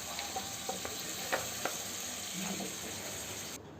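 Prawns, already cooked, tipped into a pan of tomato masala for a Kerala-style prawn roast, sizzling steadily with a few light clinks and stirring knocks, close and fairly quiet, no voices.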